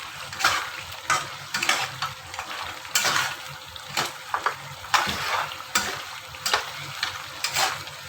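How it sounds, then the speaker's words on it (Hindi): Beef karahi masala being fried in oil, with a bubbling sizzle and repeated scraping and clinking of a spoon stirring the pan at an irregular rhythm, close-up and without speech. "इसको तकरीबन 1 से 2 मिनट जो है ना इसकी अच्छी खासी ऑयल में भुनाई कर लें"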